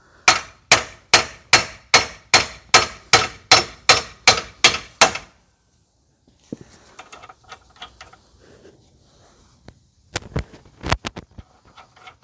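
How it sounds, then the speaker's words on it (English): Sharp metal hammer blows on a ball joint removal tool on a 2011 Kia Forte 5 SX 2.4, about a dozen rapid evenly spaced strikes, then quieter clinks and rattles and a few final loud clangs. "This tool pretty much always works for me when I try to remove ball joints"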